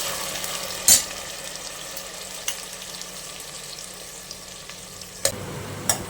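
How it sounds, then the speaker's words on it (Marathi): Raw onion and tomato sauté in oil for a spicy crab curry, giving a steady low frying sizzle with a few sharp utensil clinks and stirring scrapes scattered across the clip. No one speaks. "कच्चा टोमॅटो आणि म्हणून तो आपल्याला आता तेलावर छान परतून घ्यायचा आहे"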